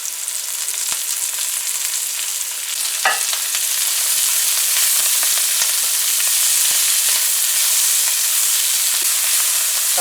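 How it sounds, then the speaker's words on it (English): Chopped scallions, celery and pepper sizzle loudly in a hot pan for chicken fried rice, a close, steady hiss with occasional scraping stirs. "now we're going to add our scallions and celery and pepper"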